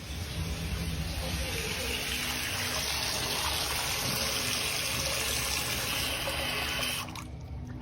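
Water running steadily from a tap at the bottom of a household fixture, a constant gushing hiss that cuts off abruptly near the end, leaving a quieter room.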